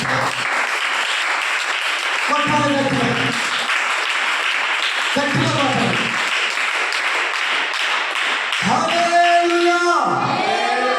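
Audience applause at a Telugu Christian sermon: dense, steady clapping runs through the whole clip, with a voice calling out loudly over it at intervals.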